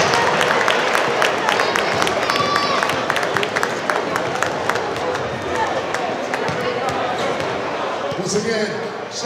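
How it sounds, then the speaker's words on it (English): Audience applause at the GHPA Basketball Classic ceremony in Hartford, Weaver vs Middletown: dense, steady clapping from a large crowd that stays loud throughout and eases off slightly near the end. "Let's give everyone a round of applause on this great day in the city of Hartford"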